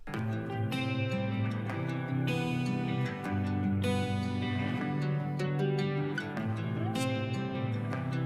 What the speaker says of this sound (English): for the chorus parts, added in these like heavier guitars